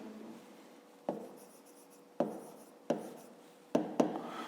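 A pen writes numbers on paper, with close, scratchy strokes and a few sharper taps as digits are marked out. The taps are irregular and the room is otherwise quiet.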